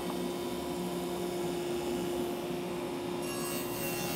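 A table saw cuts a cove molding in wood with a shallow pass, producing a steady, close motor hum under continuous rough rasping from the blade against the board.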